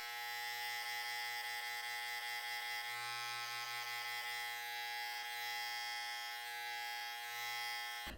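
An electric beard trimmer buzzes steadily and closely against facial hair throughout, a constant high-pitched motor whine with slight shifts in tone as it pushes through the beard at an angle during a fade.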